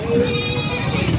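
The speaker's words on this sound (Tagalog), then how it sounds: "May binibenta dito ang kambing." A goat at a livestock market gives a wavering bleat close by, a single sustained call over busy market crowd noise and background talk.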